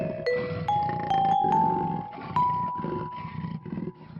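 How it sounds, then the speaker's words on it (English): A tiger roars in one loud, drawn-out call that rises and falls over about four seconds, heard alone without speech, with a few bright ringing tones laid over it. "tiger,"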